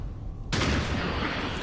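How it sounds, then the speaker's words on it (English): Shotgun fire in XCOM 2: War of the Chosen arrives as one sudden, loud blast after a quiet half second, followed by a dense, rumbling roar that stays heavy to the end. "Oh, what kind of shotgun is that?"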